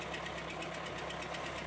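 A Renault 1.5 dCi K9K diesel engine ticks over at idle with a steady, even mechanical clatter and a low hum, fairly close and continuous, with no talking.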